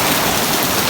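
Steady rain pours down on surfaces as a dense, even hiss, close and continuous with no voices.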